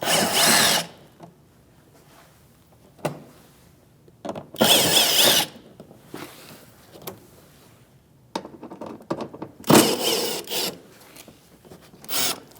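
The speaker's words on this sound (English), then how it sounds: "it's a 7mm socket, so let's go ahead and move them out" A power tool with a 7mm socket backs screws out of a 2016-2025 Chevrolet Malibu fender liner area in several short, loud whirring bursts, separated by quieter gaps of handling and rustling.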